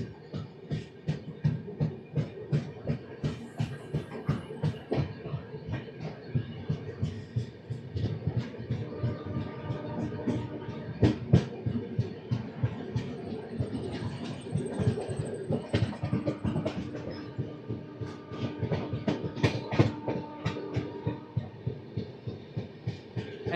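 Korba Express passenger train, departing Raigarh station, running steadily with continuous rhythmic clickety-clack of wheels over rail joints under a loud rumbling roll, heard from inside a coach.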